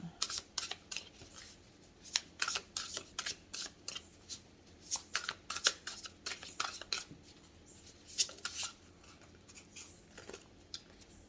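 A large deck of tarot cards being shuffled, a quiet, close, rapid run of crisp riffles and snaps repeating throughout with no voices.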